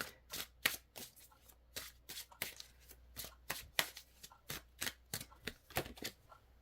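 Tarot cards are shuffled close up in quick riffling bursts, a steady run of crisp papery flutters with short gaps between them and no voices.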